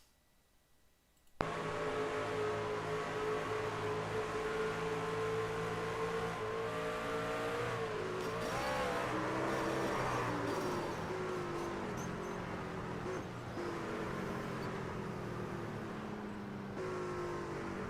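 Onboard sound from a badly broken race truck running under caution at Atlanta: a steady, loud engine drone with harmonic whine and rattle, rising and falling slightly around the middle, continuous after a short quiet start.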